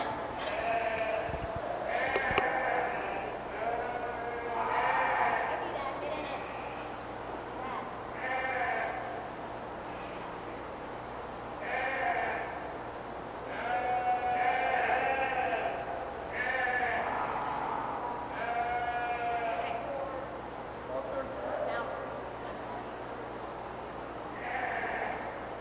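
Sheep bleating repeatedly in the show ring at a county fair 4-H/FFA meat breeding sheep show, with a Tunis ram lamb among the entries; the bleats come in several loud, wavering bursts over an announcer talking on a public address system.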